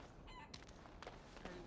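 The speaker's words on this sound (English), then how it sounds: "We got a chicken here. More chickens." Chickens cluck and crow in a fantasy role-playing game, Dragon Age Origins, as brief faint calls over a steady ambient game background.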